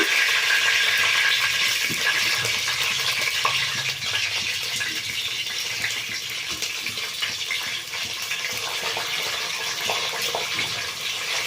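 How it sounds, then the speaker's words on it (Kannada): Onions fry in hot oil with cardamom, cinnamon and cloves for avarekalu (field bean) pulao, a steady broadband sizzle with faint stirring scrapes throughout, close and continuous with no talk. "ಈಗ ಈರುಳ್ಳಿ ಚೆಂದ ಫ್ರೈ ಆಗಲಿ"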